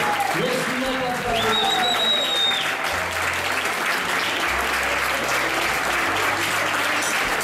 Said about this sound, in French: Bravo, on applaudit bien fort, s'il vous plaît.